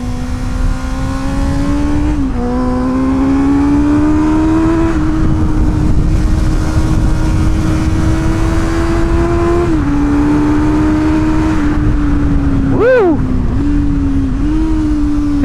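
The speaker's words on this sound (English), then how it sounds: "How about that exhaust sound though, huh?" Bone-stock Honda CB650R motorcycle exhaust on a race track, a loud, steady engine note that climbs through the revs with brief shift dips and a sharp blip near the end.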